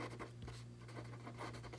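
Pen or marker scratching across a board or paper while an equation is written out by hand, short strokes in a steady, close rhythm over a constant low hum, with no talking.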